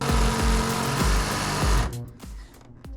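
A Sawzall reciprocating saw, its motor later smoking, runs in a loud, fast buzzing whine with a rhythmic pulsing for about two seconds, then winds down in short bursts on a plumbing job.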